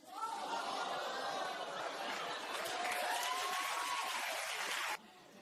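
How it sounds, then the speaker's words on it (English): A television talk-show studio audience applauds steadily, with laughter and chatter mixed into the clapping, at moderate volume for about five seconds before the sound cuts off abruptly. "And you're clapping for that, ma'am?"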